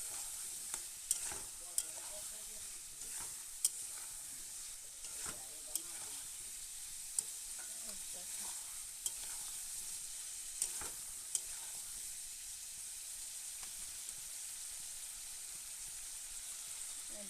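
A spice paste of ginger, garlic, onion, cumin, turmeric and chilli is sautéed in a pan, giving a steady soft sizzle with repeated scraping stirs and spoon knocks at irregular intervals, fairly close and quiet, with no talking.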